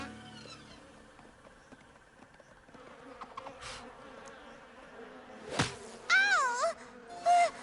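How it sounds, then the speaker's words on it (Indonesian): In a My Little Pony cartoon scene, flies buzz near and loud in short, wavering bursts toward the end, after a quieter stretch of faint ambience. "Aku sudah muak dengan lalat mengerikan ini."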